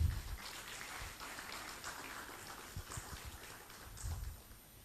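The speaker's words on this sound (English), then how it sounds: "Please, let's give him a round of applause." A conference audience applauds at a sustainable development event; the clapping is steady and fairly faint, a soft wash of many hands that swells at the start and again near the end.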